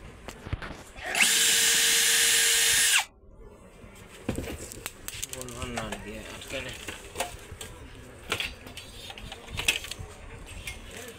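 Power screwdriver removing a nut from a professional audio amplifier during repair, one loud whirring burst of about two seconds near the start, followed by quieter clicks and handling of metal parts.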